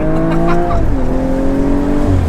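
A tuned BMW M135i XHP Stage 3 launches hard with heavy wheel spin, its loud, close engine screaming through quick gear shifts, with rising pitch sweeps and a roaring, gritty rasp throughout.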